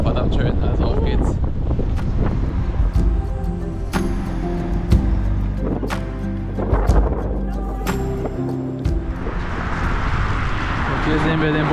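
Strong wind buffets the microphone outdoors in Ushuaia, Tierra del Fuego, a steady loud roar with gusts rising and falling throughout, a voice faintly present in the background.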